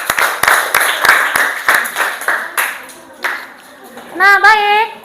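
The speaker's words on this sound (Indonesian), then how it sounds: "silakan berikan tepuk tangan." A class of students claps after a group presentation in a school lesson, a run of sharp claps that fades out, then children's voices and a bright tonal chime-like sound.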